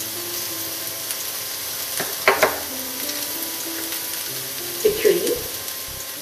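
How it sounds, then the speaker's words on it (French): Vegetables sizzle in a pan over high heat while Indian vegetarian fried rice is cooked, giving a steady close frying hiss with a few scraping stirs. A voice speaks briefly over it. "Je les laisse cuire 2 à 3 minutes à feu vif."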